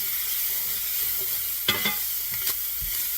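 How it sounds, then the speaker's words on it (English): Cajun sausage and rice stirred in a hot cast iron skillet with the heat off: a steady soft sizzle and hiss, broken by a few sharp utensil scrapes and taps near the end. "So I turned off the heat, stirring so nothing burns."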